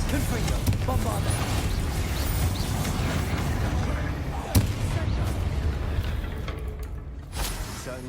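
Spell blasts in the video game Hogwarts Legacy on PS5, rumbling bursts and a sharp crack over dense combat noise, with voices in the mix.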